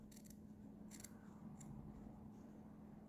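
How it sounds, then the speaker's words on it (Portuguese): Scissors cutting fabric about half a centimetre from a seam while sewing a little girl's dress: three crisp close snips spaced about half a second apart over a low steady hum, with no talking. "aqui eu vou cortar também, ó"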